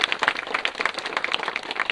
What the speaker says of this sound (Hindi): जोरदार ताली बजाइए इनके लिए